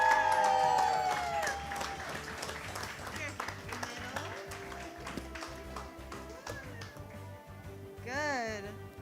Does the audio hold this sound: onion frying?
no